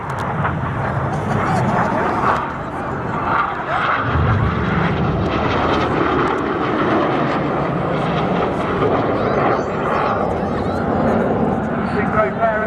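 Red Arrows display jets roar past at the Southport Airshow, a loud, continuous broad engine rush that swells and fades, with a commentator talking over it.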